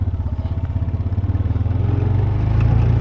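A scooter engine putters steadily on a New Zealand dairy farm as it drives behind cows, its low rhythmic chugging close and rising slightly in loudness toward the end, with no voices.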